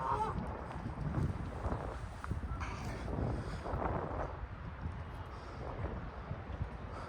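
Geese honking outdoors while someone walks, several scattered honks spread across the stretch over steady wind rumble on the microphone, no talk.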